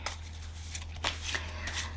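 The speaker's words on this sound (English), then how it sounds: "I'm terrible at shuffling cards" A deck of playing cards being shuffled by hand, with a faint steady hum beneath a series of riffling, flicking bursts across the whole stretch.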